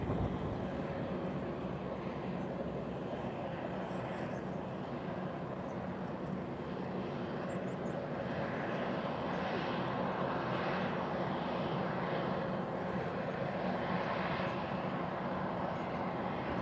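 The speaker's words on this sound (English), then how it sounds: "the upcoming landing is happening at the same time, because over here it's just one runway active where takeoffs and landings happen at the same time." An airplane on the single active runway at Lisbon Airport gives off a continuous, fairly loud engine roar that holds steady and never fades out.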